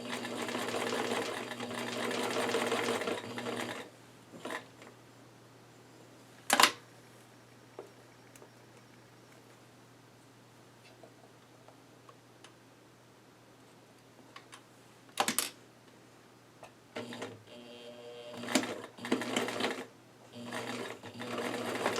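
Steady whirring drone of a sewing machine stitching near the bobbin area, broken by sharp isolated clicks and clunks, fairly quiet and close, with a faint voice in places.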